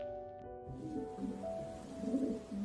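Soft, low cooing from a blue checker white-flight pigeon hen held in the hand, several murmuring coos over a steady background hum.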